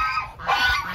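Ducks on a small farm in Digos, Davao del Sur, give a short burst of honking quacks, fairly close and loud over a faint background.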